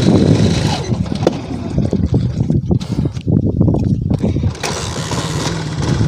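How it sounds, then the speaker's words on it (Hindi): A motorcycle engine runs steadily up close, a loud, rough and continuous mechanical drone with an uneven, sputtering edge, on a bike said to run on water instead of petrol with a slight fault. "ये देखे जी दोस्तों ये बाइक हमारा चल रहा है, तो आप ये भी दिखाएं आवाज आ रही है"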